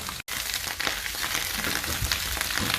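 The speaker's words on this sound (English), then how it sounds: "I'll be leaving my mushroom, my garlic and onion to cook for just 3 minutes" Mushroom, garlic and onion frying together in a pan give a soft continuous sizzle with faint crackles and a brief dropout near the start, close by and with no talking.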